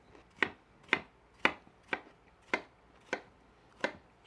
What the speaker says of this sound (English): Let me bring my knife right back across this cut watermelon.